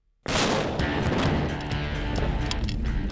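A sudden massive blast erupts from silence and rolls on as a sustained, roaring rumble with crackling debris, loud and overwhelming; a car is blown up.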